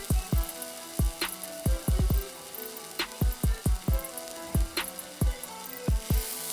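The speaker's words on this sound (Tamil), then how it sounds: "கடுகு நல்லா பொரிஞ்சு வந்துட்டோம்" Mustard seeds splutter in hot oil alongside cumin, fenugreek and asafoetida for a hotel-style tiffin sambar tempering, crackling with sharp, close pops in quick irregular clusters and no talking.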